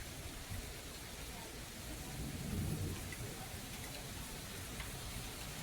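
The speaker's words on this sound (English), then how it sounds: "So we're just gonna sit here and listen to the rain" Steady rain falls in a dense, even hiss with soft low rumbling, holding constant throughout with a slight swell midway.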